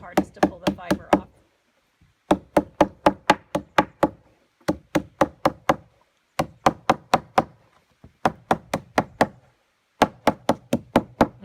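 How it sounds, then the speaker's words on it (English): Nettle stalks pounded hard along their length to free the fiber, heard as sharp close knocks in quick bursts of four to seven blows separated by short pauses. "I'm going to go right down the stalk, pounding it, being sure to really pound it hard at the joints"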